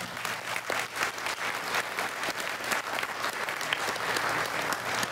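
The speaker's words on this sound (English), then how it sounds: "So, round of applause for that," Wedding guests applaud the couple, Sarah and Giuseppe, with a continuous round of clapping from a roomful of hands, moderately loud and steady throughout, with a faint hum beneath.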